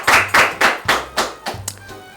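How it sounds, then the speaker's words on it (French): Quiz show audience applause: several rhythmic bursts of hand clapping in unison, loud and close, slowing and thinning out toward the end. "On va pas se fatiguer d'applaudir."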